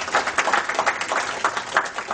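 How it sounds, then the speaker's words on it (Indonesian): Church congregation applauding together during a sermon, a dense, steady wash of clapping with rhythmic swells, fairly close and filling the room. "Tepuk tangan untuk Tuhan kita dulu."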